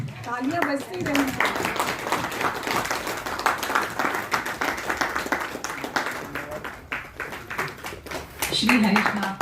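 Sustained audience clapping fills a meeting hall, a steady broad patter of many hands with a voice speaking over it near the end.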